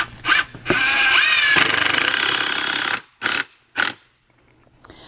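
A power drill drives 3-inch screws into a cedar 2x2 frame for an A/C cover fence, one long whirring drive of about two seconds ending in a ratcheting clatter, followed by short bursts and clunks.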